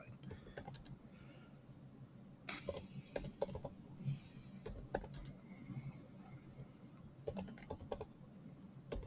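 Values are typed into a calculator as quiet, irregular tapping of keys, in clusters of quick clicks with short pauses, over a faint background murmur.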